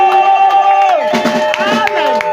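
A church congregation cheering and applauding in a loud, close burst of whoops, shouts and clapping, with a sustained tonal sound ringing beneath the crowd noise.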